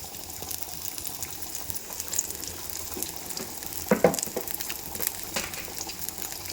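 Onion with mustard seeds frying in oil as the tempering for a roasted gram sambar, a moderate continuous sizzle with a brief burst of sputtering midway and no voices.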